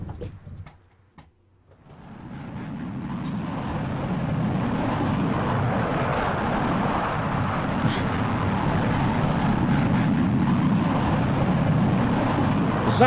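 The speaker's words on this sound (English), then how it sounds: "Did a jet fighter just fly over?" A jet fighter flies over near a truck stop, a loud broad roar swelling up after a brief quiet and holding steady, rumbling and continuous to the end.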